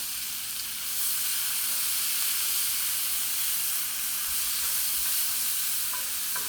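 Breakfast pizza toppings browning on a hot Big Green Egg, a steady broadband sizzle holding level and close throughout with faint scraping now and then, no voices.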